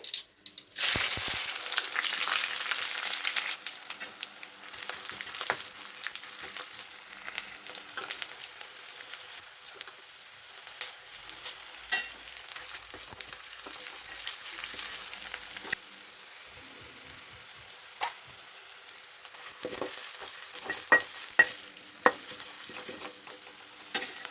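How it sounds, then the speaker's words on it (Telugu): Tempering for pulihora sizzles in a hot pan with a spoon stirring through it, a steady crackling fry over about twenty-four seconds, close and fairly loud, with no voices. "ముందుగా తాలింపు అయితే చేస్తున్నానండి పులిహోరకి"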